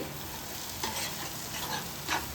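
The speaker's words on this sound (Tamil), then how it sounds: "நல்லா வதக்கிக்கோங்க. வெங்காயம் தக்காளி எல்லாமே நல்லா மசிஞ்சிச்சு." Onion, tomato and masala for a Kerala-style roasted-coconut chicken curry sizzle loudly in a pan, a close, steady fry with a few brief scrapes of the spoon and no talking.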